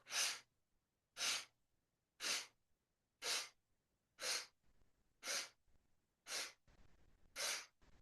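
Eight evenly spaced, sharp breath strokes are drawn in through the right nostril during a breathing exercise, each a short forceful sniff about a second apart, close and clear against near silence.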